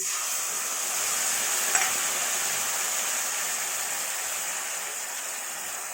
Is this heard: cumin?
yes